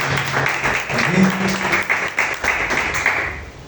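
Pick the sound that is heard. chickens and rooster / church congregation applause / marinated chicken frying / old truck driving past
church congregation applause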